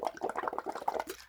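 Air blown through a tube into a container of tap water, making a quick run of close bubbling and gurgling pops that rise and fall in uneven bursts, heard alone.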